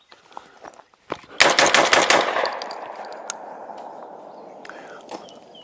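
A VR80 shotgun fires a rapid, loud burst of shots at a 3-gun match, the reports running together before a long echoing tail fades out, with a few quiet clicks and handling noises beforehand.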